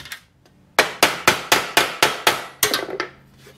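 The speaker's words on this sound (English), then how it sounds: "I wonder if I can tap that out. I'm gonna go over to the block of wood." A hammer taps out dented metal against a wooden block while restoring a 1950 Cadillac hearse: a soft tap, then a quick, even run of about nine sharp, close strikes, each ringing briefly before the next.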